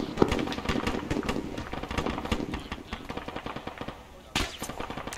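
Gunfire in the military shooter Arma 3 crackles in rapid bursts and scattered single shots, loud and close, with a short lull before another sharp volley.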